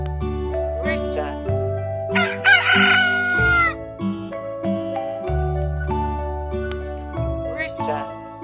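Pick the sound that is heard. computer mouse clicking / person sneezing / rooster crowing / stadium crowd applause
rooster crowing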